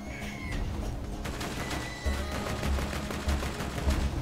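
Rapid turret gunfire in Borderlands 2, a video game, with bursts of shots over low rumbling engine or impact noise, fairly loud and continuous with heavier thumps in the second half.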